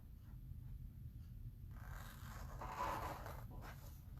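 Long Teflon-coated transfer scissors snipping through a craft transfer sheet, with quiet close scraping and cutting strokes against a faint background hum.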